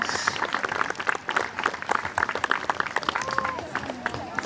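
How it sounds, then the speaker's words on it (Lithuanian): An audience applauds a choir visiting from Raudondvaris at a concert in Kulautuva, with steady, fairly distant clapping throughout and a voice faintly heard underneath. "Palydėkim juos plojimais"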